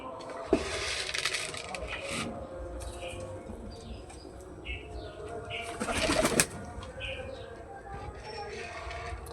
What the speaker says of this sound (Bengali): দেখো এই যে খাচ্ছে পায়রাগুলো সব